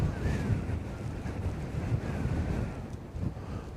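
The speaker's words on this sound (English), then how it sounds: "The wind has kicked back up again." Wind gusts buffet the microphone outdoors at a historic internment camp in the desert, a continuous rough rumble with no speech.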